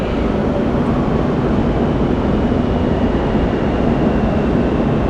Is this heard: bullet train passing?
yes